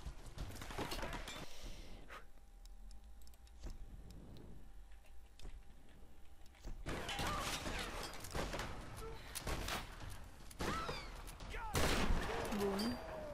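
Bursts of rapid gunfire in the video game Tomb Raider come in several loud volleys, separated by quieter stretches with faint ticking and background game noise.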